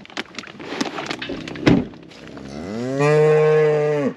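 Several cows on a farm pond field moo loudly near the listener, with a sharp thump midway and a long, sustained low moo closing out the clip; no talk.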